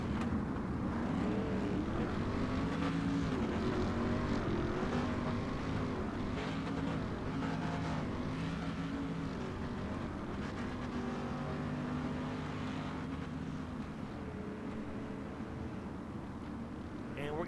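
Engine drone of the pace truck circling the track in the iRacing simulator during a Pro Street Stock Series race, a steady mid-volume hum with a race commentator talking over it throughout.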